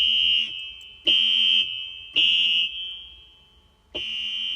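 Fire alarm tone played on a Yamaha YPG-235 keyboard: four sharp, piercing electronic notes, each struck and then fading, spaced about a second apart, close and clear with no talking.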